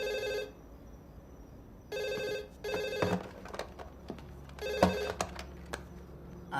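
A telephone rings in repeated short bursts separated by pauses, clear and fairly close, with faint background movement.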